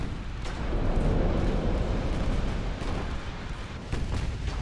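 Warship guns firing in a naval battle in Ultimate Admiral Dreadnoughts, a dense rumbling barrage of low booms and blasts rolling on continuously, with sharper reports standing out near the end.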